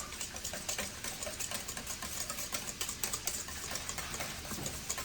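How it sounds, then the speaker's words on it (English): A whisk stirs honey into a homemade barbecue sauce made with ketchup, producing a steady run of quick, close clicking and scraping strokes against the bowl, with no talking. "then you just give it a whisk"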